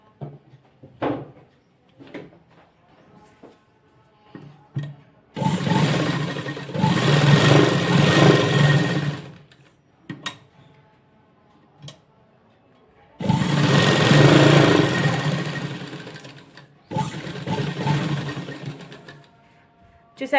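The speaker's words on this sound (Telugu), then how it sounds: "వీ షేప్ మొత్తం ఇలా స్టిచ్ చేసుకోవాలి" A sewing machine stitching a V-shape on a frock runs in two long, loud, steady bursts of rapid needle clatter, with quiet handling noises and pauses between them and a shorter run near the end.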